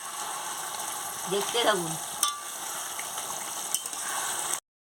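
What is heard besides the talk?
mutton curry sizzling while being sautéed and stirred in a pan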